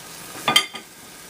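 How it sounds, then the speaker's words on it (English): Corned beef hits a hot pan for a searing, producing a brief burst of sizzle that flares up, then fades to a soft hiss against quiet kitchen background. "You want to get a good hard sear on it."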